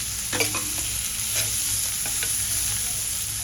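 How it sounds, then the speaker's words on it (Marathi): Steady hissing sizzle of green peas and chili thecha sautéing in a pan, with a few scraping stirs of a spatula mixed in, close and fairly loud. "परतून घेऊया आपण छान"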